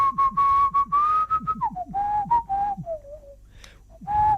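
Someone whistles a tune clearly and up close as a radio game. The phrases are melodic and sustained, with short breaths between them and a soft background beat.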